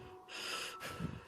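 A sharp, breathy gasp opens a tense scene in a narrated horror story, followed by a shorter snort-like intake of breath, close and clear with no talk.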